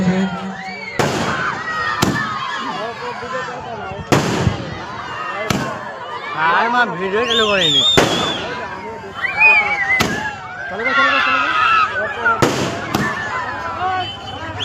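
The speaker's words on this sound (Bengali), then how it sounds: "চলছে আতশবাজির খেলা।" A village fireworks display at a prize fair: sharp bangs and crackling bursts go off repeatedly, some close and loud, over a constant murmur of crowd voices and shouting.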